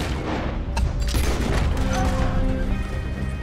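Sustained gunfire from a Red Dead Redemption 2 shootout against pursuing Pinkertons, a dense, loud barrage of overlapping shots and booms that continues without a break for several seconds.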